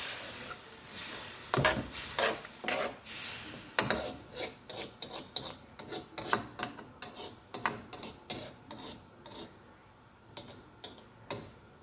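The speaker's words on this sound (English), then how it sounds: "Give it a stir and let it steam." Shrimp fried rice stirred in a pan, a series of rhythmic scraping, rasping strokes of a utensil against the pan, repeating steadily at close range.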